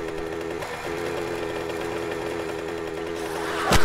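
Minibike engine in the survival game 7 Days To Die, a steady buzzing idle running throughout at even loudness, with a louder burst near the end.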